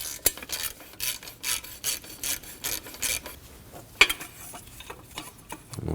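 A 12mm bolt is loosened with a ratchet to remove a panel on a 2003-2006 Subaru Baja, giving a series of quiet rhythmic ratcheting rasps with a couple of sharper clicks, close up and without speech.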